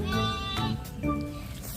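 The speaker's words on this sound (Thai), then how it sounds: "ร้องยังไงอ่ะมันร้องยังไงร้องเสียงยังไงแบะแบะ" Sheep bleat while being fed, several loud overlapping bleats close by with a wavering, nasal pitch, one after another with brief gaps.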